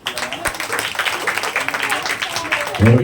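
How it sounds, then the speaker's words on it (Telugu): Church congregation clapping swells into a dense patter of applause, heard over a voice speaking; a low thud near the end. "అందరూ గట్టి చప్పట్లు కొడదాం"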